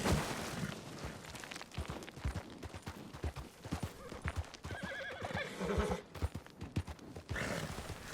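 Steady clip-clop of a video game horse's hooves plods along uphill, with the horse neighing loudly partway through, close by and fairly clear. From Red Dead Online.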